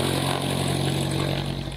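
A single-engine plane's engine runs steadily during a taxi lesson, a loud continuous drone with a constant low hum and no talk over it.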